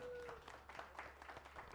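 A comedy club audience gives a short burst of applause for a couple married 23 years, soft, scattered clapping at a distance that thins out quickly.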